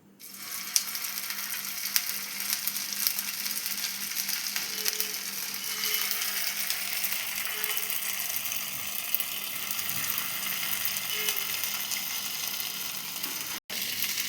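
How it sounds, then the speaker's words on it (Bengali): Seekh kebabs fry one by one in a little hot oil in a wok, giving a steady crackling sizzle with faint ticking pops, continuous and close, with no talking. "এবার আমরা এই শিক কাবাবগুলো এর মধ্যে একটা একটা করে ফ্রাই করে নেব।"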